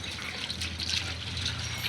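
Water runs steadily on a farm for buffaloes to drink, a soft continuous splashing trickle at close range, quiet and unbroken with no talking.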